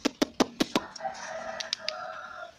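Backyard coop chickens cluck in a quick run of five sharp, close calls, followed by softer scattered clucks over a faint background.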